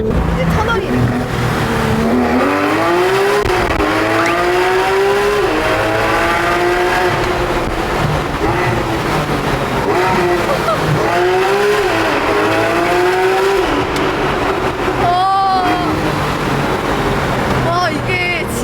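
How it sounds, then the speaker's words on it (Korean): A Porsche GT3 RS with a naturally aspirated engine roars loudly inside a tunnel, its exhaust pitch climbing in repeated rising sweeps through the gears, heard close from the cabin as people talk over it. "그리고 안에서도 배기음이 크네요. 이제 터널이니까요."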